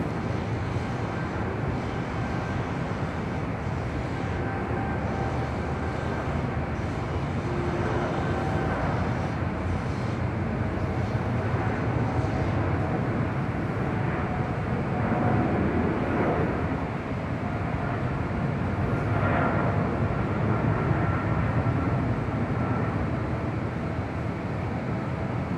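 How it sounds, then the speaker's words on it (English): Boeing 777 rolling down runway 25 left at LAX, heard as a distant, continuous jet roar that swells gradually across the clip. "as we get this 777 now rolling down 25 left"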